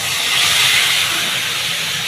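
A wet paste of ground cumin, ginger and chili hits hot oil with a loud, close, steady hiss that swells briefly and then holds as an even sizzle.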